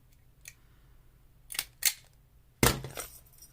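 A desk stapler clicks down on paper fastened to a tag, a few sharp snaps with short gaps, the last one loudest, close up in a quiet room with no talking.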